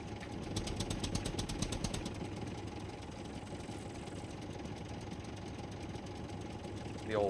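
Tractor engine in the survival game Scum, used for base building, putt-putting with a steady low chugging idle throughout, a faint rattle on top and a brief rising whine near the end.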